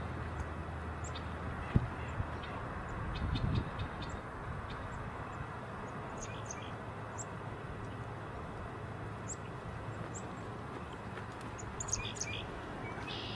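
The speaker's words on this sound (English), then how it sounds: "Chickadees, 2 or 3 of them." Two or three chickadees give short, high chirps and calls, scattered and fairly distant over a constant outdoor rumble that sounds like a passing aircraft.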